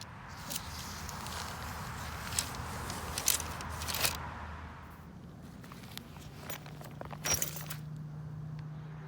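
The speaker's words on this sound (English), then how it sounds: "So now we're going to go ahead and remove those 2 tent poles and fold them up for storage." Aluminium poles from an SUV tent being pulled apart and folded for storage outdoors, giving scattered faint clicks, rattles and scrapes over a low steady background hum.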